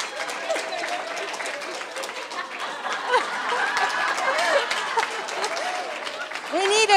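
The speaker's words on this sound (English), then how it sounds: "I think they deserve a big round of applause" A group applauds a pair of students at a school event, moderately loud clapping mixed with cheers and overlapping voices, swelling slightly toward the end.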